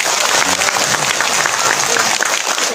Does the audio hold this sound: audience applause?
yes